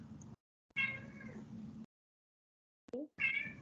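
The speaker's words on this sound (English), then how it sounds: "if you hear my cat meowing in the background" An indoor house cat meows twice, clear close calls separated by a short silence, with a brief faint chirp between them and no talk.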